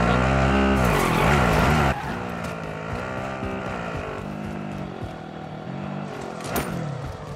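A car in Warzone revs hard with a loud engine whine, then settles into a steady driving drone with shifting pitch and a brief scrape or skid near the end.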